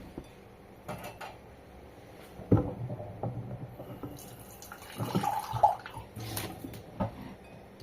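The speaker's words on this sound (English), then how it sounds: "And I mix with water." Water poured into rabbit fish bait and mixed by hand, giving soft, intermittent sloshing and splashing close up, with a few brief louder stirs and outdoor background noise.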